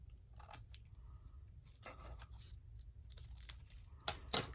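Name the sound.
scissors trimming frayed edges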